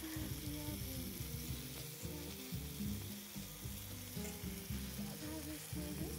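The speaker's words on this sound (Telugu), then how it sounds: "ఇప్పుడు దీన్ని ప్రతి ముక్క మంచిగా ఫ్రై అయ్యేలాగా కొంచెం brown colour, golden brown colour వచ్చేలాగా ఫ్రై చేసుకోవాలి మీడియం ఫ్లేమ్లోనే కలుపుకుంటూ" Chicken pieces for Afghani chilli chicken frying in a pan on medium flame, a dense, loud sizzle with rhythmic stirring scrapes throughout, heard up close with no one talking.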